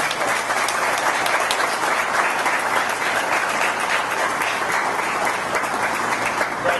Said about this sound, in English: A big round of applause for the East Berne.